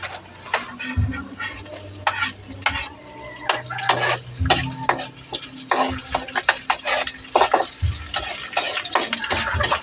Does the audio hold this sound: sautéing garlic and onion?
yes